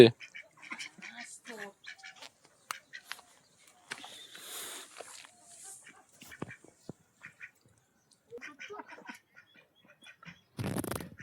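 Ducks quack in short scattered bursts near a Sundarban waterside, fairly faint and intermittent, with people talking softly between the calls and a brief louder rustle near the end.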